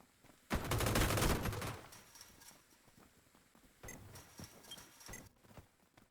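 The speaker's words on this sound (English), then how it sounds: "So we've got gunfire coming from over that way." Gunfire in the video game PUBG: a loud burst of rapid automatic fire opens the scene, then quieter scattered shots and clatter follow from farther off, with no voices.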